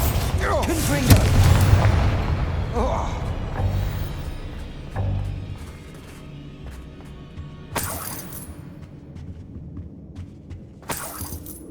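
Fiery Confringo spell blasts in the video game Hogwarts Legacy, heavy booming bursts with shattering crackle, one big blast early then sharper impacts later, loud and close amid game effects and a voice.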